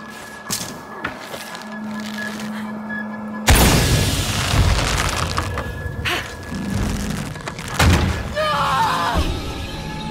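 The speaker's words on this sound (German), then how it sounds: "Ich brauche eine Explosion, damit die Plattform schwingt." A sudden loud explosion in the video game Shadow of the Tomb Raider bursts out, followed by rumbling debris and crackling, with a few softer thuds and clanks around it.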